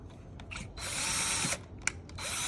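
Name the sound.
power drill drilling pocket hole with jig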